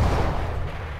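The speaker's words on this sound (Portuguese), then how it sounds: "Deploying flashbang." A flashbang grenade exploding in Counter-Strike GO, a loud low booming burst that fills the short moment and slowly fades.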